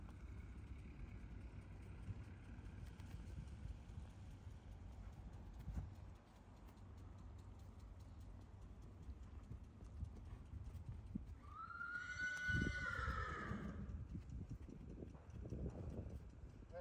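Hooves clip-clop steadily as a mare is saddled for the first time during training, with a loud, close whinny rising near the end over low rumble and faint voices.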